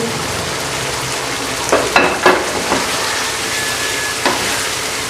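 Chicken frying in oil left from browning onions for an achari chicken karahi, a loud steady sizzle with a few brief clinks of stirring, no voices.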